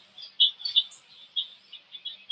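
Small birds chirp in short, high calls scattered through a quiet outdoor scene, several faint tweets close together without any voices.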